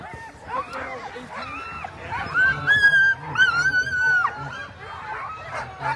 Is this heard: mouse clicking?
no